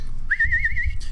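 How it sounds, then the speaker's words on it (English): A clear, steady whistle is held for about seven tenths of a second against low background rumble, heard during a Washington football pregame. "What's up with the whistle too?"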